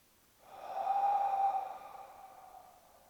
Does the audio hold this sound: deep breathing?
yes